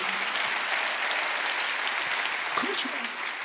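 A church congregation claps steadily throughout a Wednesday worship sermon, a dense, even wash of many hands at moderate level, with a faint voice occasionally underneath.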